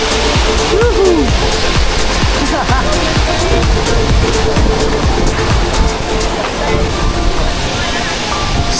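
A very tall waterfall in the Philippines pours down in a loud, constant rushing roar, close and filling the whole scene, with splashing water throughout.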